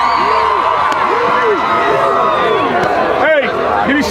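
A crowd of fans at a high school football game in the stands cheering and shouting, a steady dense roar with chatter and whoops throughout.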